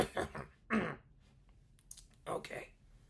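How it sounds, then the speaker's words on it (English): A couple of short, rough throat-clearing bursts close by, separated by quiet gaps, with a faint click in between. "I haven't drank enough to clear my throat."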